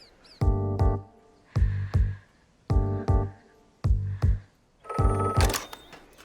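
An old-style telephone bell rings for an incoming call in repeated double bursts, five loud close rings with short pauses between, the last one brighter and harsher.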